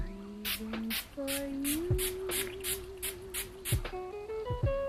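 A rapid series of about ten short bursts of ColourPop setting spray misted on a face, pumped rhythmically, close and crisp, over soft background music.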